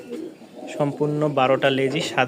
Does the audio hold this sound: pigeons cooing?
yes